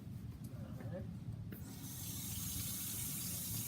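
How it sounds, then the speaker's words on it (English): Hands are washed at a sink with running water, with a quiet background before a steady tap stream starts partway through and continues to the end. "now that I performed my assessment, I'm going to wash my hands"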